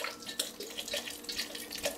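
Water from a tap runs into a container for homemade blueberry currant soda, a steady close splashing stream with small bright gurgles and drips.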